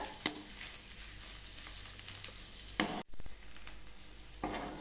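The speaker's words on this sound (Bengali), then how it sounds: "আবার খুন্তি দিয়ে আর একটু ভালো করে ভাজতে থাকব" Spatula stirring and frying pointed gourd mash with dried chili in a pan, a steady sizzle with occasional scraping clatters heard close by, and no voices.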